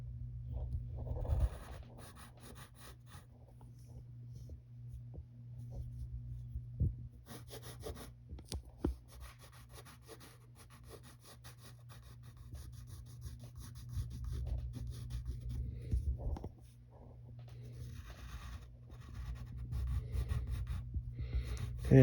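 Pencil scratching and rubbing on paper while sketching a cartoon character's leg, soft continuous strokes with brief pauses, close and quiet over a steady low hum.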